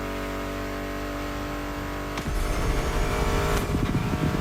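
Muscle car engines rev in the racing video game The Crew Motorfest, a steady loud drone that rises into rougher, harder revving partway through, with no talk over it.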